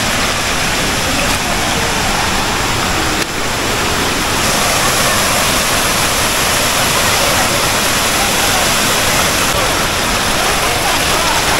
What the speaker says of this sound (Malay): Air terjun dara yang pertama.